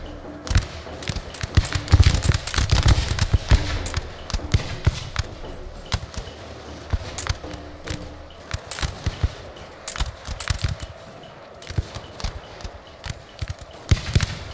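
Matchlock gunfire in a Shogun 2: Total War battle as units shoot at the enemy general, heard as scattered sharp cracks and volleys that pop irregularly in clusters over a low battle din.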